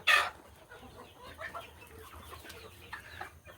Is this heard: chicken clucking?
yes